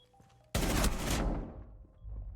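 Rainbow Six Siege gunfire, a sudden loud burst of rapid shots that rings out for about a second, then fades into quieter room noise.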